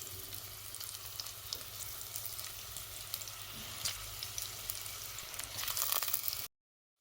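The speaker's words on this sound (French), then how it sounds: "maintenant je vais venir les saisir dans de l'huile qui est déjà aussi bien chaude" Boiled, drained potatoes sear in hot oil, giving a steady, moderately loud sizzle with small crackles that swells near the end before cutting off.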